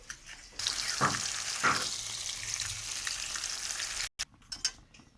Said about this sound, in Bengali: ভালো করে উল্টে পাল্টে লাল লাল করে আমি সবকটি মাছ ভেজে নিচ্ছি।